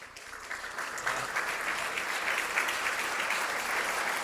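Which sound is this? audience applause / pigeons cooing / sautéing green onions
audience applause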